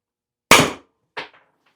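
A less-lethal launcher, a Byrna LE, Byrna SD or Salt S2, fires a single sharp, loud shot close by, followed by a quicker, fainter mechanical click.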